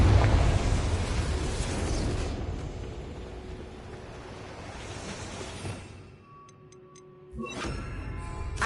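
A Confringo fire spell blasts in Hogwarts Legacy as a loud burst of rumbling, crackling fire that fades into a dim lull, followed by small ticks and then another surge of noise.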